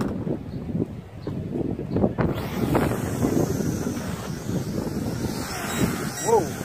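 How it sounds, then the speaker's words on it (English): A strong gust of wind roars against the microphone outdoors during an ATS S611 drone flight, heavy rumbling buffeting that swells and stays loud for several seconds. "Whoa, strong gust of wind."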